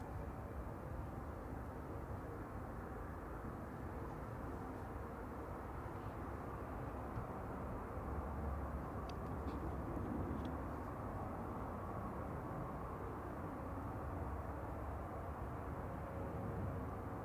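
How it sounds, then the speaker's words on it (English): A Qatar Airways Airbus A350-1000 jet at Manchester Airport powers down the runway for takeoff, a steady, broad engine roar heard from a distance that holds evenly throughout without clear rise or fall. "Qatar Flight 24, A7AND, A350-1000, getting out before the KLM inbound"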